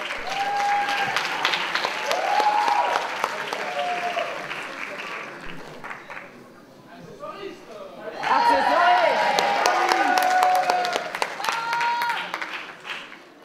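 A crowd applauds cosplayers at a cosplay contest at a convention, with clapping and cheering under an amplified presenter's voice. The applause thins briefly in the middle, then swells back louder.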